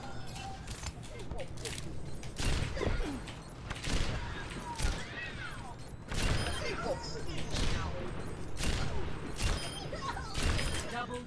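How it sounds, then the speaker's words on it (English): Shots ring out from a sniper rifle fired in rapid succession in a first-person shooter game, as a string of sharp, repeated cracks spread across the span with a voice talking underneath. "rapid firing with her sniper is not a good idea"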